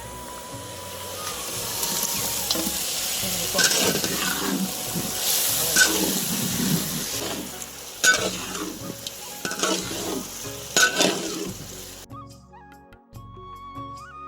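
Potatoes are tipped out of a wok and cook in egg-and-potato gravy, giving a loud hissing sizzle with bursts of steam and clattering stirring, rising and falling over several seconds before fading near the end.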